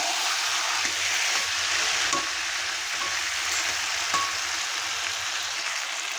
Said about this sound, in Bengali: টমেটো কেচাপ দিয়ে আমি ভালো করে নেড়ে নেব।